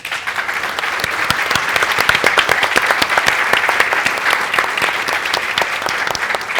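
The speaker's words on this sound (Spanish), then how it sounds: "Un fuerte aplauso" Steady audience applause after a panel discussion on neuroscience, time, attention and learning, dense and sustained at a fairly loud level with many overlapping claps and no talk.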